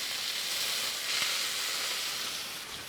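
A chunk of butter melts and sizzles steadily in a hot pan with rosemary, a continuous soft hiss heard alone at moderate level.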